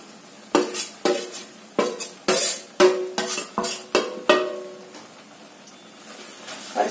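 Roti crumbs being stirred into melted jaggery in a pan with the gas switched off, giving a series of close, sharp scraping clatters of spoon against the pan, separated by short pauses.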